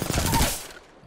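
Gunfire in Apex Legends, a brief rattling burst of shots that fades out quickly.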